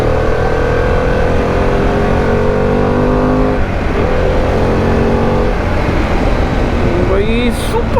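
A Harley-Davidson touring superbike cruises at around 130 km/h, its engine a loud, steady drone under heavy wind rush, with pitch shifts suggesting gear changes partway through.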